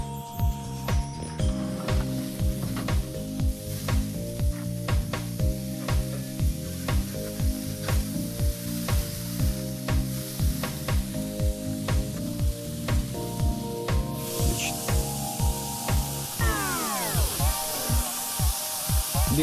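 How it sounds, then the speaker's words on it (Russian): Bacon sizzles and crackles steadily on a hot grill throughout, beneath rhythmic, beat-driven background music. "пришло самое время обжарить бекон"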